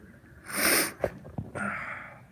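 A person sneezes once loudly and close, then gives two or three short sniffles and nasal snorts before a fading breath, indoors in a room with kittens.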